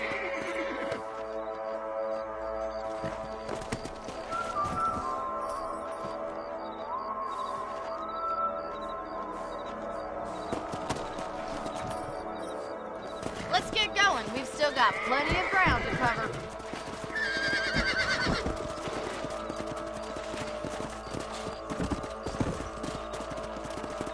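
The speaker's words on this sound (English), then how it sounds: "Let's get back on the horses and see what else is going on." Video game hooves clip-clop steadily and a horse neighs in Red Dead Redemption, with someone talking over the trotting.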